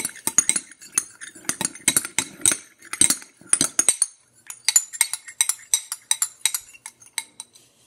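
Homemade slime mixture with mustard stirred in a bowl, a utensil clinking and scraping against the sides in quick, repeated strokes, close and clear with no voices.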